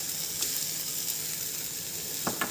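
Green pea paste hitting a hot pan of oil with ginger and green chili paste, a steady soft sizzle with a couple of sharper bursts of spitting near the end.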